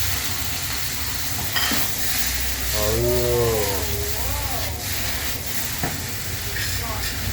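Steady hiss of garlic and chili frying in a hot pan with stirring scrapes, a close voice speaking over it briefly in the middle.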